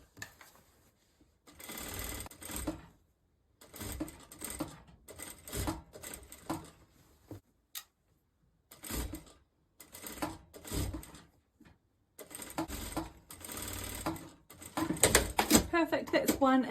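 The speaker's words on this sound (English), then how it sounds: "When I'm sewing the sleeve in, I also like to work with the sleeve on top and the bodice underneath." Sewing machine stitching a sleeve into a wrap dress bodice, running in several short close bursts of rapid mechanical clatter separated by pauses, with a person talking at times.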